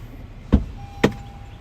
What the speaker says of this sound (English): I'm going to go ahead and open up the door.